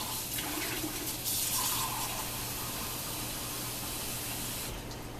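Tap water runs steadily into a pot for cooking rice, a constant close splashing hiss lasting several seconds without talk.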